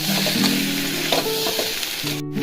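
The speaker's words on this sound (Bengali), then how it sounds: "আলুটা দেওয়ার পর কিছুক্ষণ ভেজে নিচ্ছি" Boiled potatoes fry in oil in a wok with a loud, continuous sizzle and a few stirring scrapes close by.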